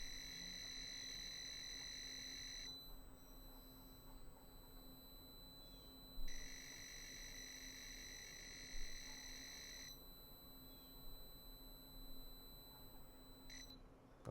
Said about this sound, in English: It has a buzzer in it, so you can hear the program loading.